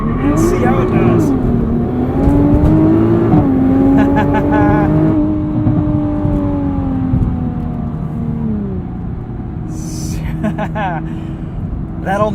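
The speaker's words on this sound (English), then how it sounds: "Let's sneak a launch control in here and see how it does." A 2021 Nissan GT-R Premium does a launch-control start, its engine rising in pitch through several gear changes as a loud, close acceleration roar, with a voice talking over it.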